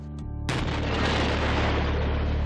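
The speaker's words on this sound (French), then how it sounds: "Voilà l'explosion." A house blows up in a staged demolition test, a sudden huge blast that lands after a short quiet stretch with a faint low hum and then rolls on as a loud, sustained roar and rumble of debris.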